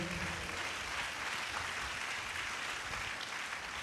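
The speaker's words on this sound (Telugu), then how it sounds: "చప్పట్లు కొట్టండి ఒకసారి సంతోషంగా" Church worshippers clap their hands together in a dense, steady wash of applause that continues evenly throughout, with no voices standing out.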